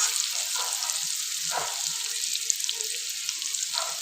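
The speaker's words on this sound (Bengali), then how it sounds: "পেঁয়াজ কুচিগুলো দিয়ে আমি আলুর সঙ্গে একসঙ্গে ভেজে নেব" Potatoes and chopped onions frying together in a pan, a steady close sizzle with soft stirring scrapes throughout, no voices.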